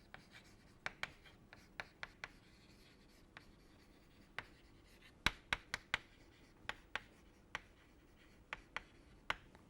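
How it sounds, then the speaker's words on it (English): Writing on a board: sharp, sparse taps and short strokes at irregular intervals, quiet and close, with no talking. "Maybe I will write it here."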